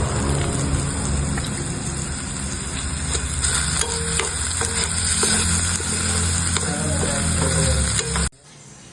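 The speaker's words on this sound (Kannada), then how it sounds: "ನೆಕ್ಸ್ಟು ಹಾಕಿ ಶುಂಠಿ ಬೆಳ್ಳುಳ್ಳಿ ಪೇಸ್ಟ್ ಒಳ್ಳೆ ಟೇಸ್ಟ್ ಬರೋಕ್ಕೆ ಹಾಕಿ" Ginger garlic paste fries with a loud, continuous sizzle in a pan while being stirred, scraping clinks sounding through the hiss, in a prawn recipe, until it cuts off abruptly near the end.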